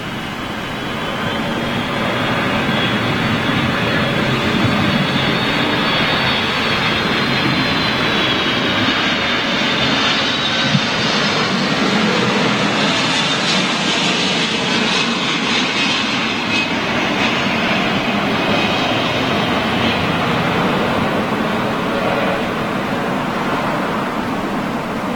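A Delta Boeing 757 jet at LAX, with parallel runways in use, sounds as a loud, steady engine roar that holds for about twenty-five seconds at constant strength, close by and continuous, with no talk over it.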